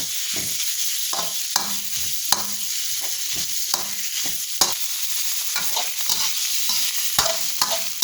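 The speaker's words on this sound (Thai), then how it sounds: "ใส่พริกแกงลงไปแล้วจ้ะแล้วก็ผัดหมูด้วยจ้ะ" Pork stir-fried with red curry paste in a pan gives a sizzling hiss broken by repeated sharp scrapes and clacks of a utensil against the pan, close and steady with no talk.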